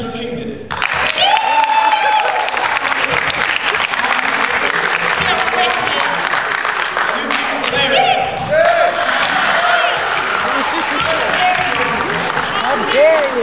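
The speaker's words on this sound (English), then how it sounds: "we can clap for her" Audience clapping at a school play, a dense, loud patter of many hands sustained throughout, with children's voices and talk mixed in over it.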